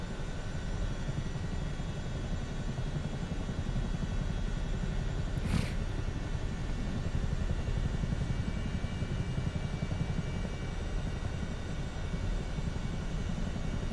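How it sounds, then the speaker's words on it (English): A Chinook helicopter in a flight game cruises fast at about 70 knots, its engine and rotor droning as a steady, loud, unbroken wash throughout, with one brief whoosh midway. "If you have not flown the Chinook in the game, I highly suggest it."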